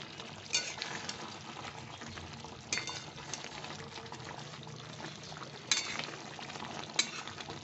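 Chicken reshmi curry being stirred and mixed in a pan, with a soft, steady scraping and bubbling texture and a few louder scrapes of the spoon, close by and without talk.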